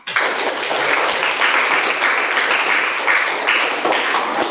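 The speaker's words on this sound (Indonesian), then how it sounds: "Oke, kasih aplaus untuk semua." A class of students at a junior high school applauding together, dense steady clapping, loud and close, lasting the whole stretch.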